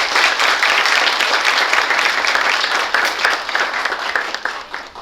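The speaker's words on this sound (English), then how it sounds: "Can we have a big round of applause for them?" Dense, sustained applause from a large audience thanking students at an orientation day, steady and loud throughout with no clear voices on top.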